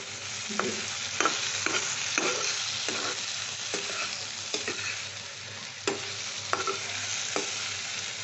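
Turmeric and other spices fry in oil for an egg and cauliflower curry while a spoon stirs them, making repeated scraping strokes over a constant close sizzle.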